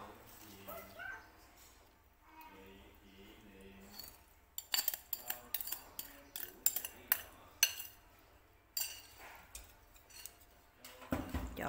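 A spoon clinks and scrapes against a bowl while stirring a marinade of soy sauce, sugar and cooking oil for grilled pork skewers. Quiet at first, then a run of sharp, irregular clinks up close.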